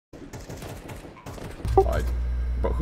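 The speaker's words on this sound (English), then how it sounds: "who's shooting me" Rapid video game gunfire bursts into the mix partway through, loud and close over a steady low rumble, with players chatting over voice comms throughout.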